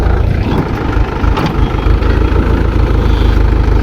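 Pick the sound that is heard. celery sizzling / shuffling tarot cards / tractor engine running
tractor engine running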